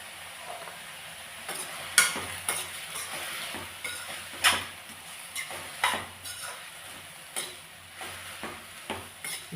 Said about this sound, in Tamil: தக்காளியும் வெங்காயமும் நல்லா வதங்கணும்